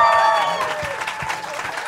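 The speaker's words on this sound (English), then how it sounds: "get ready to clap" A studio audience at a radio station's live music session breaks into applause on cue, a loud burst of clapping that stays steady and then thins slightly toward the end.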